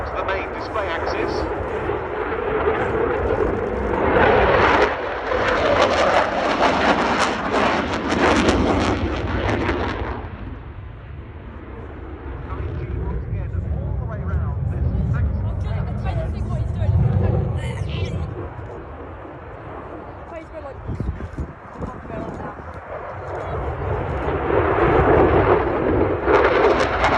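A display aircraft performs a nose-high barrel roll at the RAF Cosford airshow. Loud, sustained jet roar swells and fades across the pass, with a commentator talking over it throughout.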